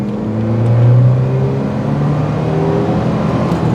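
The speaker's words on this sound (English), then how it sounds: "And the engine sound, I really like it." A 1980s Citroën Visa GTi hot hatch engine hums and revs steadily up close, a smooth droning pitch rising slightly as it accelerates, with road noise underneath and no talking.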